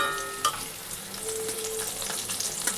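Pointed gourd pieces fry in hot oil with a steady, close sizzle and crackle, and a brief clink of utensils.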